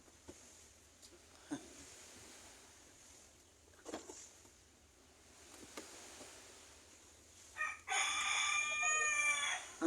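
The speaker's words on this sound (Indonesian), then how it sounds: "Suara ayam lagi." A chicken clucks faintly near a fiberglass fishing-boat building site, then a rooster crows loudly and clearly at the end, over sparse tapping and workshop knocks.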